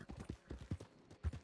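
Horse hooves clip-clop in Red Dead Redemption 2, a quick run of distinct, fairly close thuds in an uneven walking rhythm that continues for a second and a half with no talking.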